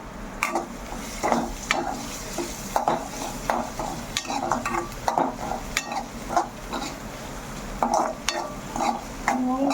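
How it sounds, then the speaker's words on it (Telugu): Ginger garlic paste and garlic frying in a pan for an egg fry, with a spoon scraping and stirring in repeated strokes over a soft sizzle, clattering lightly against the metal pan throughout. "కొద్దిగా అల్లం వెల్లుల్లి పేస్ట్, కొద్దిగా తెల్లుల్లి అన్నీ వేసుకొని ఫ్రై చేసుకోవాలన్నమాట"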